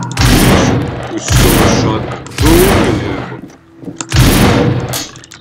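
A gun fires in the zombie survival game No More Room in Hell, four loud, booming shots spaced about a second apart, each with a heavy crack and a short ringing tail.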